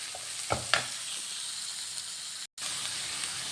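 Green chili and sliced onion sautéing in a pan for a vegetable stew, making an even hissing sizzle with a couple of stirring clacks near the start and a brief dropout partway through, with no voices.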